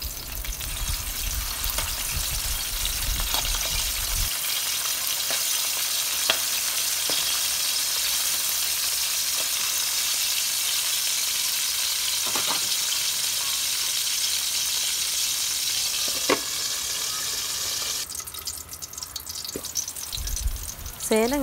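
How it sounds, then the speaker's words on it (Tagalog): Milkfish (bangus) fries in hot oil in a pan, a loud continuous sizzle and crackle that stays steady throughout, with a few sharper pops and some stirring noise near the end. "balik tayo dito sa piniprito nating bangus"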